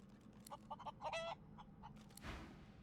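Hen in Divinity Original Sin II giving a string of short, faint clucks and chirps in quick bursts, ending with a soft rustle, no talk.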